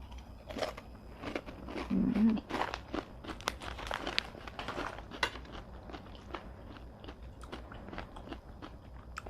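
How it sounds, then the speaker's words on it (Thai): Crunchy fried chili is chewed close up, giving dense crisp crunching bites that are loudest early and then ease into softer, steady chewing, with no talking. "อยู่บ้านเคี้ยวเพลิน เบิร์นพุงเลยค่ะ"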